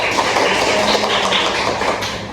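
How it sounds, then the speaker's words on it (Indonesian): Classroom audience applauding a student during a midwifery lecture on anemia in pregnancy: a dense, steady clatter of many hands clapping together for about two seconds, close and loud, fading slightly at the end, with no talk over it. "Bisa beri aplaus dulu pada teman kalian."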